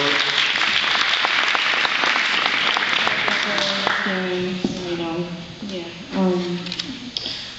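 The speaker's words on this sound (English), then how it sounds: "Give them all a round of applause." Applause at a memorial tribute, clapping strong at first and then thinning out as a voice starts speaking over the fading claps.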